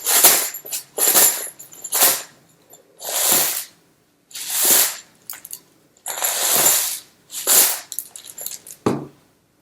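A homemade shaker made from a paper towel roll, larger size, is shaken in about nine separate bursts of rattling and crunching, each a second or less, with short silent gaps between them.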